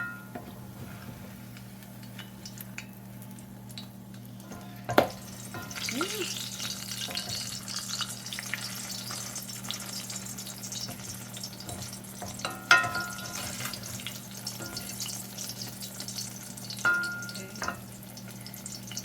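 Unleavened vegan flatbread fries in a pan right after being flipped, giving a steady, close sizzle with a low background hum and a few sharp taps and clicks along the way.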